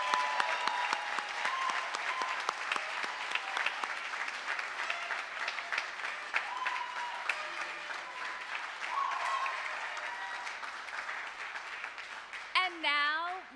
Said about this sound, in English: Please join me in giving a round of applause to our 2022 graduates